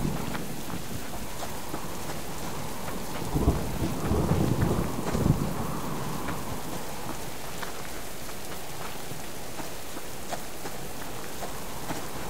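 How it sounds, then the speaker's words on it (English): Loud rolling thunder swells in the middle of a steady rainstorm, with rain pattering on surfaces throughout and the rumble peaking briefly before fading back into the downpour. "that thunder is way louder than it needs to be"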